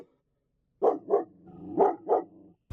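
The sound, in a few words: dog barking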